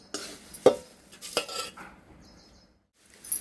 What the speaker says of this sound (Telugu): ఇప్పుడు ఈ అటుకులు దీంట్లో వేసేస్తా కలుపుకోవడానికి